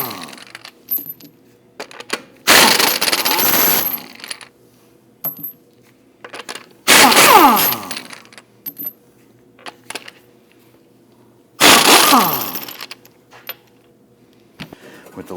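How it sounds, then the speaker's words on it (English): Lug nuts being loosened and removed from a 2009-2017 Volvo XC60 wheel with a 19mm socket, three loud bursts of ratcheting metal clatter separated by quieter pauses and small clinks. "Using a 19mm socket, we want to get loosened and remove the lug studs."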